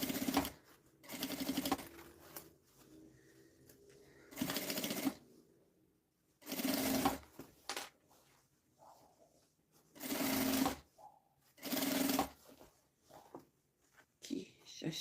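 A sewing machine stitches bias binding along a fabric edge in loud, close bursts of rapid whirring, broken by pauses filled with someone talking.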